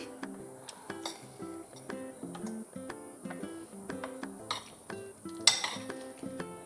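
Oats and pomegranate seeds are mixed together in a bowl, giving a steady run of soft scraping and clinking utensil taps against the dish, close up and without talk.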